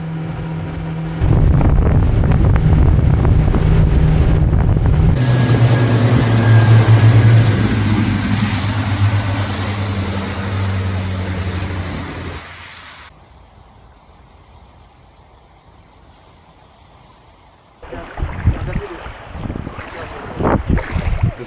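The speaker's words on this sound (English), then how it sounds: "Right from the start, it was clear this wasn't your grandma's speedboat. This thing could really move." A fast speedboat races over open water near Padar island, its engine drone mixed with heavy wind buffeting and splashing waves, loud and continuous before easing into a quieter rush of water and wind.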